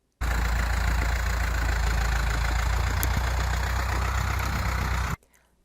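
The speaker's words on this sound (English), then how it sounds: "they definitely get excited when they hear the tractor fire up" An old 1970s Ford tractor engine idles steadily and loudly for about five seconds, a dense low chugging rumble close by that stops abruptly.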